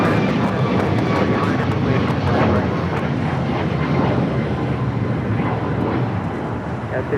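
An Avianca Airbus A320neo jet at LAX gives a loud, sustained broadband engine roar that holds steady close by, with a voice faintly underneath.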